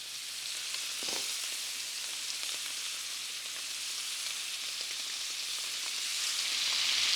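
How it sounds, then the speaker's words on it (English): Scallops sizzle in a pan of butter and olive oil, a steady broadband crackle that runs the whole time and swells slightly toward the end, with no voices. "I love that sizzle."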